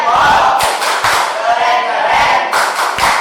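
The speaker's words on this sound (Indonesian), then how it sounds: "Silakan dikeluarkan yel-yel PAI-nya" A group of high school students chanting an Islamic religious education class cheer in unison with loud rhythmic claps, a lively classroom cheer filling the room.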